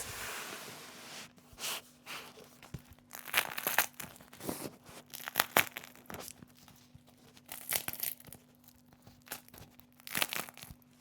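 A knife saws through a crusty jalapeño cheddar sourdough loaf, loud crackling and crunching bursts from the crisp crust in uneven strokes, close up with a faint steady hum behind.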